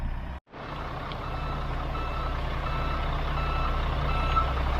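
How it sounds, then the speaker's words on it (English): A concrete truck backing up at a job site, its reversing alarm beeping steadily and repeatedly over a loud, constant diesel engine rumble, with no talk. "So we just spun the truck around and we're gonna back them in over here"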